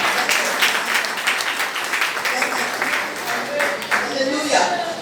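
A church congregation at a women's convention applauds, scattered clapping rising and falling for several seconds with voices and cheers mixed in.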